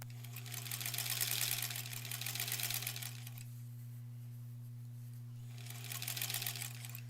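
Sewing machine stitching a seam on pieces for a granny squares quilt border, running steadily in two bursts with a quiet pause between, and a low steady hum underneath throughout.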